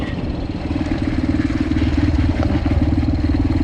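A small Yamaha TTR 125L dirt bike with aftermarket exhaust chugs with a deep, bassy exhaust burble up close, pulsing steadily and swelling slightly as the throttle opens.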